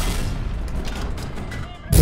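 An ARL-44 ACL tank cannon firing a solid shot in War Thunder: a sudden loud boom near the end, after a short stretch of rumbling engine and battle noise.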